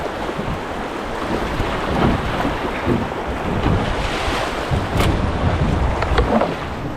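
Big standing waves in a long river rapid in the Yukon wilderness roar as a continuous broadband rush, with churning water and wind buffeting the microphone close up, and no talking.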